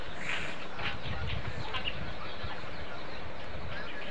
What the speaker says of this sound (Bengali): আমার এখানে কিছু দেশি মুরগি আছে